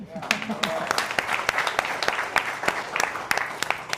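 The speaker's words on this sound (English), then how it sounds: "I think they all deserve a round of applause." At a small 1 Million Cups entrepreneur gathering, a modest audience gives a crisp round of applause: individual sharp claps stand out and run steadily for several seconds at moderate volume.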